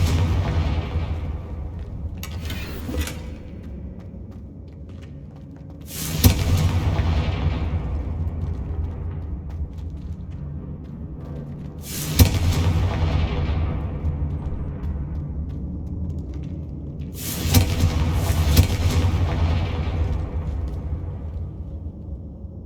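Confringo fire spell blasts in Hogwarts Legacy, four sharp bright explosions landing a few seconds apart, each trailing off into a long low rumble over a steady deep ambient drone.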